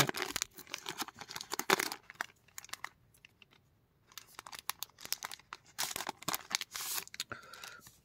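A paper photo packet from a premium Guardians of the Galaxy steelbook edition is opened carefully by hand, giving close crinkling and tearing rustles in bursts, with a short quiet gap midway.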